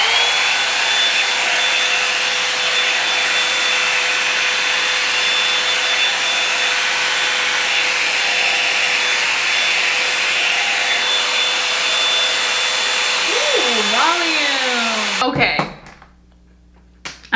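A Revlon Salon One-Step hair dryer roars steadily on high for about fifteen seconds, loud and close, then shuts off abruptly near the end, leaving a brief quiet tail.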